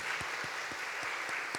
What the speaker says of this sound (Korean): 여러분 한번 박수 쳐드리겠습니다